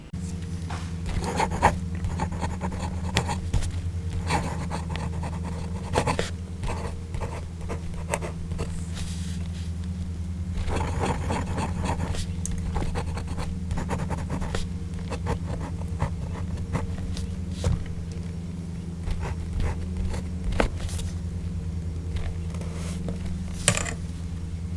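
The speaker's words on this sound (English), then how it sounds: "let's hear this nib on paper" A fountain pen's No. 5 nib on a Wing Sung 601A scratches and glides across paper in short strokes, with faint scratchy texture over a steady low background hum; no talking.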